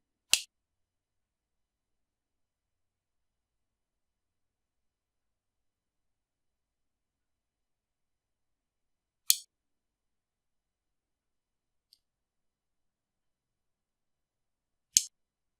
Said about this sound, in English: I'm just going to trim those frame wires to the length I want.